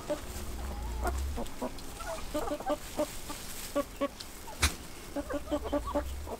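A flock of Orloff chickens and roosters clucks in a coop yard, with repeated short clucks and calls scattered across the scene at close range, and a quiet voice now and then.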